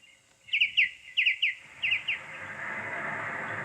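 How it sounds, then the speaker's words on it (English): A cartoon bird whistles in three quick bursts of bright, rising chirps, each a pair of notes, then a steady hiss of background noise follows. "You sure can whistle pretty. Oh, be quiet, bird."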